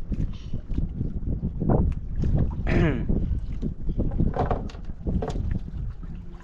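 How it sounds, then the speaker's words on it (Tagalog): Wind gusting across the open sea on a fishing trip, buffeting and roaring against the microphone with steady rough rumble, mixed with boat creaks, water splashes and faint background voices. "Ay, hangin na naman mga Yan tropa."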